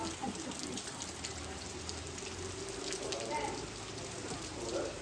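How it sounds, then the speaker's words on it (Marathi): Heavy monsoon rain falls in a continuous, even hiss of dense patter that holds steady throughout. A faint voice may sound beneath the downpour. "चला सकाळपासूनच बघा पाऊस भरपूर आहे."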